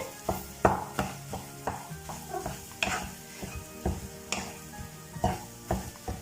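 Spiced potato filling seasoned with salt and garam masala is stirred in a hot pan for aloo chop. Rhythmic spoon scrapes and knocks come about twice a second over a faint sizzle, with no speech.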